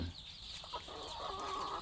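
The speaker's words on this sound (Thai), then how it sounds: "ส่วนไก่ชีท่าพระ มีผมตลอดทั้งตัว เป็นสี ขาว" Chickens on a Thai farm, native breeds including the white-feathered Chee Tha Phra, cluck softly and steadily nearby over a low outdoor background hum for a brief moment.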